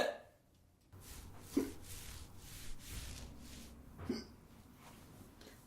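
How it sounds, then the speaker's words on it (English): A man hiccups sharply twice, a couple of seconds apart, each a short abrupt catch in the throat against a quiet indoor background. "The hiccups."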